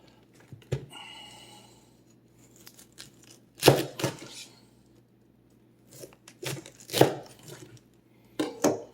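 Knife cutting the hard core out of a halved cabbage for homemade sauerkraut, heard as a few sharp crunching chops and slicing scrapes spread out with quiet gaps between them.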